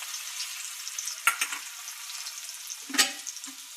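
Cumin and crushed garlic frying in a pan: a soft continuous sizzle with two sharp bursts of crackling as ingredients hit the hot oil, close by.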